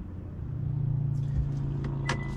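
A car engine idling in neutral on a sloping road in Caledon, Ontario gives a low steady hum with a faint rumble. A couple of brief clicks follow near the end, and no voices are heard.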